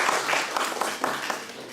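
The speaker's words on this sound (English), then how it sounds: "So please give a big round of applause." A brief burst of audience applause in a conference hall, steady and moderately loud for under two seconds.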